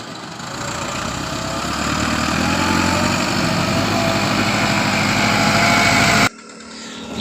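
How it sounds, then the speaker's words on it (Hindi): A bus passes along a broken village road, its engine a steady drone that swells as it approaches and then drops off sharply, with no talk over it. "ये जो अभी बस गुजरी है, ये गांव वालों के लिए बहुत बड़ी सहूलत है।"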